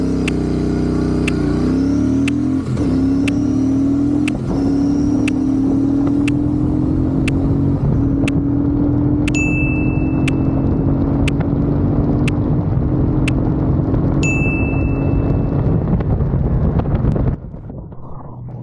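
Royal Enfield 650-class twin motorcycle, an Interceptor 650 or Meteor 650, accelerating hard through the gears in a speed test, its engine note climbing then dropping at each shift, with steady wind rush and clicks of the rider's equipment.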